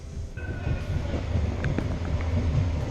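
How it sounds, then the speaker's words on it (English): An Edinburgh tram rumbles along steadily with low droning motion and occasional faint clicks and squeaks from the wheels, close and continuous. "This tram is for New Haven."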